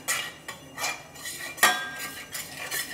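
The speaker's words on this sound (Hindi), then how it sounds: "सारी चीज़ों को मिक्स कर लेते हैं।" Metal spoon stirring ground spices such as cumin powder and Kashmiri chili powder in a pan, with repeated scraping and clinking strokes at an uneven rhythm, close and clear with no talking.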